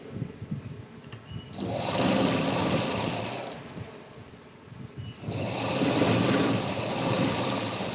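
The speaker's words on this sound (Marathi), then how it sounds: "आता कंबरपट्टीला जॉईन करून घ्यायची अर्ध्या इंचावरती" An electric sewing machine stitches a blouse waistband seam in two sustained whirring runs separated by a short pause, close and fairly loud.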